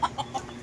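Three quick clucks from a native chicken nearby at a resort in San Luis, evenly spaced, over faint outdoor background.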